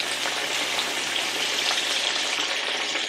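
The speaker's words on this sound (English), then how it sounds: "Cook time, probably 3 to 5 minutes on the shallow frying." Flour-coated fish fillets shallow-frying in hot oil for a fish dinner give a steady, loud, close crackling sizzle that never stops, with no voices over it.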